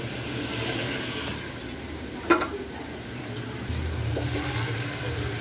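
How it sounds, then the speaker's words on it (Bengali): Prawns being washed under running water in a home kitchen, a steady gentle splash of flowing water with a brief clatter midway, no talk. "চিংড়ি মাছটা আর একটু ধুয়ে দিত।"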